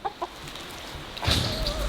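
Farm chickens cluck in short, soft bursts close by, followed by a louder, denser stretch of fowl noise among the flock of hens and one rooster.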